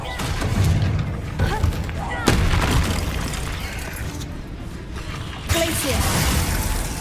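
Fiery blasts from the Confringo spell in Hogwarts Legacy inside the Feldcroft catacombs: several sharp booming impacts with shattering edges, spaced a couple of seconds apart amid combat noise and speech.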